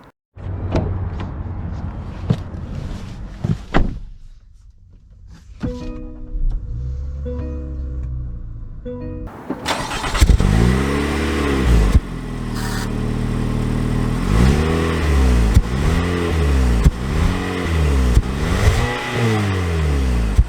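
A 2022 Mitsubishi Outlander SEL, heard first through quiet cabin clicks and a door thunk, then its engine starting and pulling away, with the engine note rising and falling through repeated gear changes as it accelerates, loud and steady.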